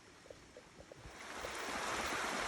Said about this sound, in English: Nice little creek coming into Bimaheny.